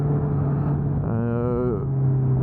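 Honda CB650R motorcycle engine pulling in fourth gear as the throttle opens, a steady loud drone whose pitch climbs briefly mid-clip and then settles back.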